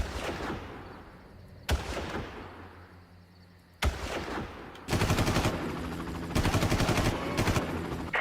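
Gunfire in the video game Far Cry: a few heavy single shots with long decaying echoes, then rapid bursts of automatic fire, loud and close with no talk.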